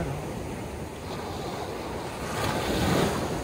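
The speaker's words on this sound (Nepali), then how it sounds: "पुरै पानी एकदम लहर एकदम रफ भइरहेछ है पानी" Rough sea waves roll onto the shore at Mahboula, Kuwait, in foggy weather, a continuous rushing wash that swells louder near the end, mixed with wind buffeting the microphone.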